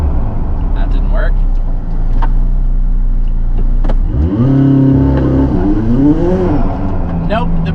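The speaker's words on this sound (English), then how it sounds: "There is a rolling burnout in the 600LT." McLaren 600LT doing a rolling burnout: a loud, close engine roar with revving that rises and falls, tyres working under heavy throttle, while people talk over it.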